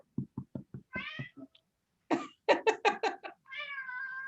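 A pet cat meows in a string of short calls, then a longer drawn-out meow, close and clear with pauses between, indoors with no talk.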